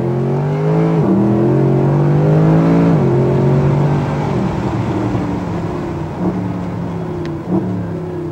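A sports car engine revs hard and rises in pitch through several gear changes, loud and close, with a tire screech from spinning rear wheels layered over the roar.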